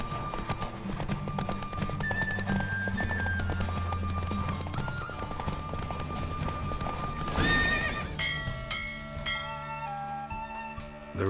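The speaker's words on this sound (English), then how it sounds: "Don't spare the horse!" A horse gallops and neighs during a race in The Witcher 3 video game, with rapid rhythmic hoofbeats and whinnies over a bed of game music, the music shifting to a brighter tune near the end.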